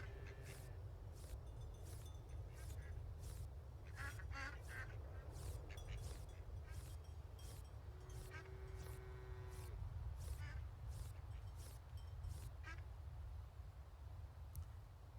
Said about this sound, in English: my little Peking ducks